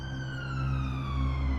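An ambulance siren wails up close, with a high sweeping tone held over the low rumble of a vehicle engine. No talk is heard.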